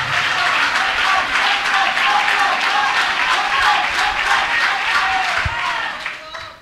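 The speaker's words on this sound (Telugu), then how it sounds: "ఏదో ఒకసారి సంతోషంగా చప్పట్లు కొడుతూ స్తోత్రాలు చెప్పండి" A church congregation clapping together in praise, dense rhythmic applause filling the room with a crowd murmur beneath, sustained at full strength before tapering off at the end.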